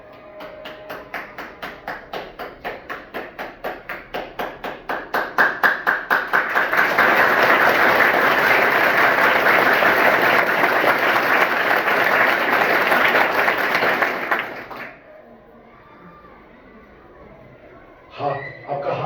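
A classroom audience claps in a slow rhythmic beat that quickens into loud, rapid continuous applause, then stops abruptly, followed by faint room noise and a brief murmur.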